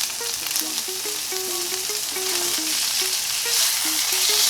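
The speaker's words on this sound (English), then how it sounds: "We're just cooking it in the pan to give it some nice crust and color." A sous vide bistro filet sears in a hot pan, giving a steady, bright sizzle under a plucked-note melody of background music that runs throughout.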